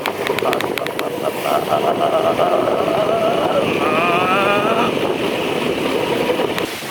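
A scooter rides a winding road in India, its engine droning steadily under heavy wind rush that fills the whole stretch, while someone talks over it.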